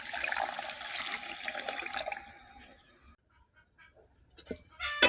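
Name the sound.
water poured into a pan of cooking potatoes and bitter gourd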